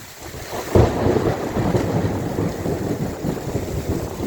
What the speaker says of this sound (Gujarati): ખેડૂત મિત્રો વાવણી લાયક વરસાદ તમે જોઈ શકો છો